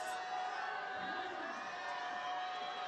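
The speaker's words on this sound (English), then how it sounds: "You can hear the crowd shouting for her" Steady crowd noise from spectators cheering on a woman climber at an IFSC World Cup women's boulder final in Salt Lake City. The sound is a continuous distant roar of shouting and whoops, with no clear separate voices.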